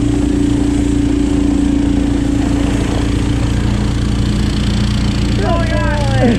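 Ski-Doo Renegade 900 Ace Turbo snowmobile engine chugging loudly and steadily up close, a constant low rumble throughout, with a voice breaking in near the end.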